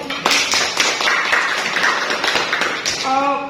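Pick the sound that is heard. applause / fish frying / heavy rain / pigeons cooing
applause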